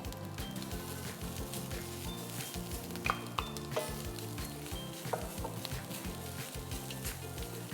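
Grated coconut sautéing with asafoetida in a pan makes a steady close sizzle, with a few light clicks of a spoon against the metal and a low, even hum under the frying.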